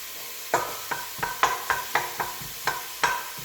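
Onion and garlic frying in rapeseed oil, stirred in a pan with a steady run of about ten close scraping strokes over a soft sizzle.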